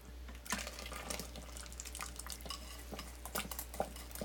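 Thickener being stirred into fish chowder in an Instant Pot, a steady run of soft scraping and liquid swishes with a few sharper clinks of the utensil against the pot, close and moderately quiet over a low background hum.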